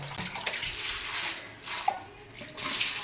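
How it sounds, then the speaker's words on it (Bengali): Household items rinsed under a running tap outdoors on a rooftop, a steady close splash of water with brief pauses and shifts as things are moved under the flow, no talk. "এরকম একটু জল দিয়ে এই হয়ে গেল ধোয়া"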